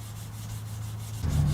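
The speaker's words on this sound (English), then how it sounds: "I'm using a piece of 600 grit sandpaper and just lightly sanding it." Soft, steady rubbing of fine sandpaper on wood, a low continuous scratch that grows slightly louder near the end.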